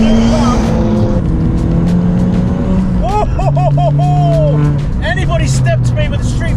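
Modified Ford Fiesta ST with a turbo hybrid conversion, engine droning loudly with rising and falling revs and chirping turbo whooshes and flutter over the top.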